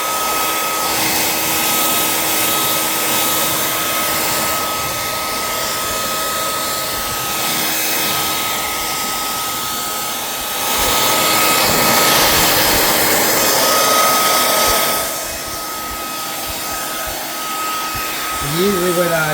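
A hair dryer blowing to dry a wood finish on a cabinet, a loud, steady whooshing roar that runs continuously and swells slightly in the middle, close to the listener.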